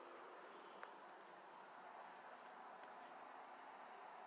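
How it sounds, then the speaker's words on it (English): Crickets chirp in a steady, rapidly pulsing high trill that continues unbroken against a faint background hiss, with no one talking. "I love this cricket sound"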